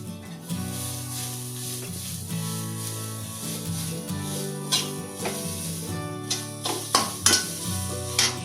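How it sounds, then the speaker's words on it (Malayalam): Gentle sizzle with repeated scraping and stirring strokes as grated coconut roasts in a pan, growing more frequent toward the end, over a steady low hum. "തേങ്ങ ചെറുതായിട്ടൊന്ന് ചുവന്ന് തുടങ്ങുന്നത് വരെ നമുക്ക് ഇളക്കിക്കൊണ്ടിരിക്കണം"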